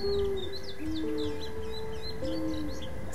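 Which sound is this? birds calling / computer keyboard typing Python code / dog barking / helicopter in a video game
birds calling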